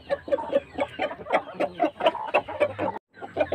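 Free-range village chickens cluck close by in a steady, continuous chatter of short calls, with one brief gap near the end.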